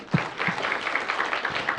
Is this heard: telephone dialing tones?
no